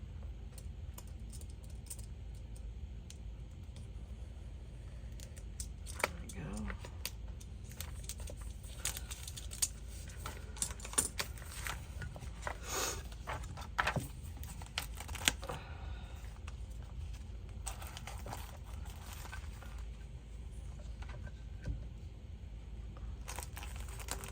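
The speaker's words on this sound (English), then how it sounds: "Carefully cut this plastic off." Plastic wrap being cut away from a wooden plank, giving soft crinkling, scraping and small tapping sounds that go on steadily at close range with no talking.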